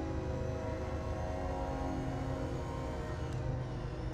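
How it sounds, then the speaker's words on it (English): A train passes a house, giving a steady low rumble with faint tonal drone lines that holds at one level for the whole stretch, fairly distant and with no voices. "There's a train going by my house."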